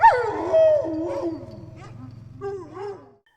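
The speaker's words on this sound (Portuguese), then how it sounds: "E foi subindo pouco a pouco, até se tornar um ganido estridente abominável." Dogs howl loudly in a sustained, wavering cry that opens with a shrill yelp and slides down in pitch. Lower whimpering howls trail off into silence, with no talk over them.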